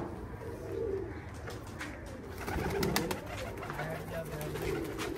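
Soft, low pigeon coos sound against a noisy background, with a few faint chirps and shuffling noises mixed in.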